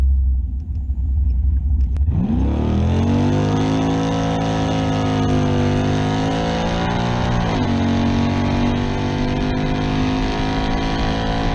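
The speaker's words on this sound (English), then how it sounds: "Quick little pull from a dead stop." A modified Chevrolet Camaro with a new cam and drag radials launches hard from a dead stop. The engine fires into a loud, close roar that climbs in pitch, drops briefly at a gear change, then keeps pulling steadily.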